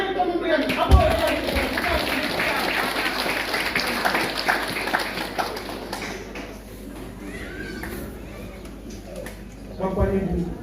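A congregation claps during a church anniversary service, a loose, moderate burst of applause that swells and then fades as voices talk over it.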